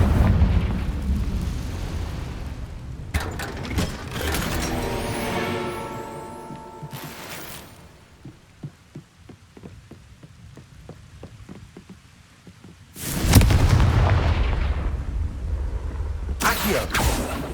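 Confringo fire-spell blasts in Hogwarts Legacy with crackling, rumbling explosions and game sound effects. Bursts come in and out over a steady noisy backdrop, including a loud surge near the end.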